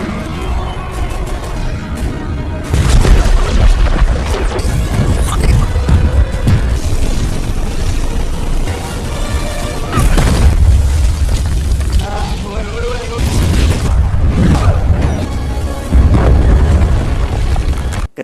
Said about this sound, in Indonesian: ketika ledakan terjadi